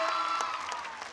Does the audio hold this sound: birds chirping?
no